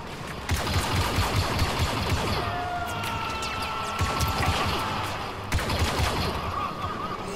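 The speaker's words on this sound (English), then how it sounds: "Now I'm shooting the rocks now." Rapid blaster fire aimed at rocks in a Star Wars Battlefront II ground battle, loud repeated volleys with impact crackles over constant combat din, bursts swelling around the start and near the end.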